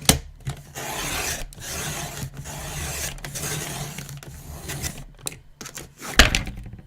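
Sheet of paper being cut to size for a passport folder, a steady close rasping, rubbing cut running for several seconds with brief pauses and a sharper snip near the end, no voices.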